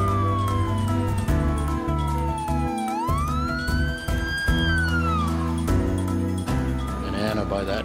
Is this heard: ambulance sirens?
yes